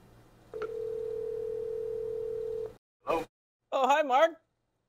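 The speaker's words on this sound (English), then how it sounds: "Let's go ahead and give Mark a call." Ringback tone on an outgoing call from a Yealink desk phone, one long steady ring burst heard clearly up close, followed by a short click and a person answering.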